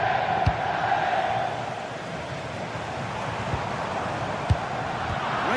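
A stadium crowd roaring at a football match in a video game, a constant broad wash of cheering with a few faint thumps, steady and loud throughout.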